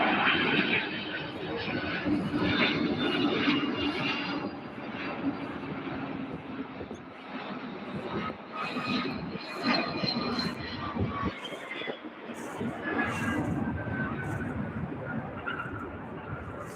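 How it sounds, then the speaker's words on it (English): A UPS Airbus A300 cargo plane lands at Louisville's UPS Worldport, its moderate engine roar rising and falling in waves beneath someone talking over it. "The only Airbus plane in the UPS fleet, the Airbus A300"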